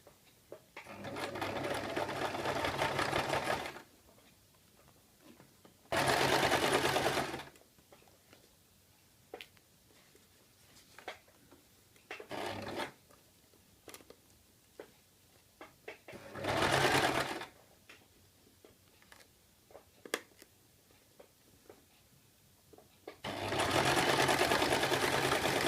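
A sewing machine stitches a fabric circle skirt in several bursts of steady whirring, separated by quiet pauses, close and clear with no talking.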